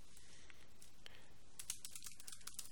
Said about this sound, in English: as I type in